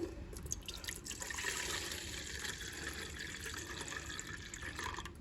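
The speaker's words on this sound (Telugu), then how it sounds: "నేను ఇప్పుడు మిల్క్ ఇందులో పోస్తున్నాను" Milk pours into a yogurt maker as a steady, soft liquid stream with a light gurgle, close and continuous for several seconds with no speech.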